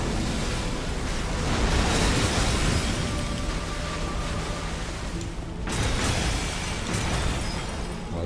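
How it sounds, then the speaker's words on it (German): Explosion in the video game Elden Ring during a boss fight: a dense, roaring noise wash that swells and holds for several seconds, cuts off abruptly, then a second burst follows, loud throughout with no talking. "Oh Gott, ist da eine Explosion?"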